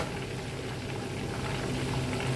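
Minced garlic frying in butter in a pan makes a dense, close, continuous sizzle and bubbling, steady throughout.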